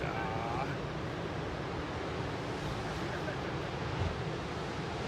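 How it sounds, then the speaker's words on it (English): Pacific Ocean surf breaking on the shore, a continuous broad wash of waves with wind noise, steady and moderately close. "Had a whole bunch of awesome waves come up"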